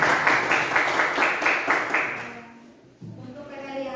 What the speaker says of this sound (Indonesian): masih tepuk tangan dulu untuk Marinje